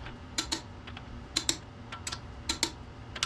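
A torque wrench clicking while the lug nuts on an MK7 Golf R wheel are tightened, sharp close clicks arriving in pairs about four times over a few seconds, against a steady low background hum.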